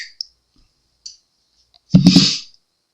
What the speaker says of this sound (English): Just snip off the end a bit.